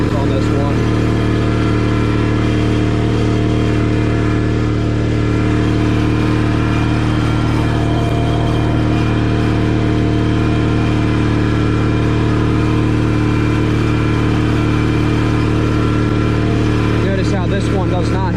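A Cub Cadet 782 garden tractor with power steering drones steadily as it is driven, a continuous mid-pitched engine hum that stays loud and even from start to finish, with faint voice in the background.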